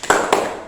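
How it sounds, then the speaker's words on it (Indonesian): A group doing a 'tepuk semangat' clapping cheer at a training session, heard as two quick, close claps or taps in a short sequence with a brief ringing decay. "mari kita tepuk semangat dulu, Bu, biar semangat kita semuanya"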